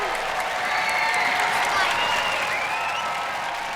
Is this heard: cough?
no